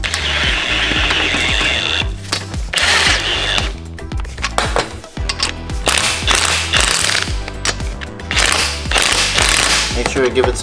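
A ratchet tightening a bolt on a Mazda RX-7 FC rear subframe, loud rapid clicking bursts repeating in quick strokes with short pauses between, close up and with no talking.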